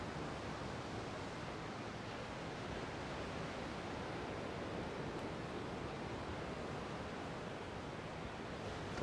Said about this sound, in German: Jetzt hört man auch wieder den schönen Meeresrausch